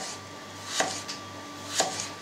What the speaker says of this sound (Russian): И теперь режу на тоненькие-тоненькие пластиночки.